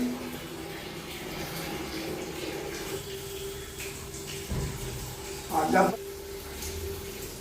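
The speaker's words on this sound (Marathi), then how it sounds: "पाण्याचा आवाज येतो" Water runs steadily in a home bathroom as someone bathes, a faint continuous flow heard from beyond a closed door, with a brief louder splash near the end and people talking nearby.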